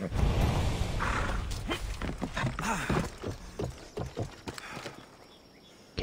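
A horse gallops in the game Assassin's Creed Odyssey: rapid hoofbeats pound close and loud, then thin out and fade toward the end before a final sharp knock.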